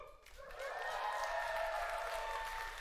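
Crowd at an E3 Square Enix press event, faint applause and cheering swelling from a distance after a short pause and holding steady.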